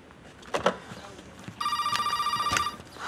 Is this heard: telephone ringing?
yes